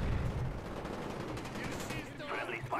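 Rapid automatic gunfire from the PC shooter Call of Duty: Black Ops, dense and continuous bursts throughout with a voice talking over it.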